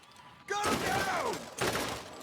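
Gunfire in the Borderlands video game, a burst of loud shots with sharp onsets at about half a second and again near the 1.6-second mark, the first burst trailing into a sustained rumble, with game voices mixed in.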